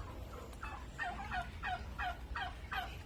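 A newly hatched turkey chick calling in a rapid series of about seven high, thin peeps, close and fairly faint over low background hum; no speech.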